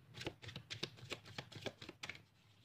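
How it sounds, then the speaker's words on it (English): A deck of tarot cards being shuffled, giving a quick run of soft papery clicks and riffles at close range, fairly faint and with no talk. "now I'm going to be shuffling,"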